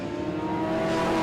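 Historic Porsche racing cars accelerate at the Winton Festival of Speed with a loud, sustained engine drone and rising revs, heard close for a short burst and not mixed with speech.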